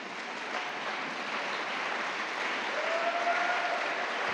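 A church congregation applauds and cheers for the Lord during an evening service, a steady, dense wash of clapping from many hands that holds evenly throughout.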